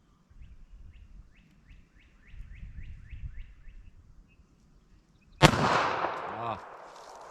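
A single sharp .380 ACP pistol shot cracks loudly near the end, following several seconds of birds chirping in a repeated run of calls and faint outdoor rumble; the report rings briefly before fading.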